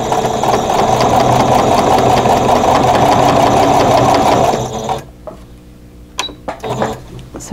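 A sewing machine stitching fabric for a crochet hook wrap runs loud and close in a fast steady whir for about five seconds, then stops, followed by a few light clicks and handling sounds.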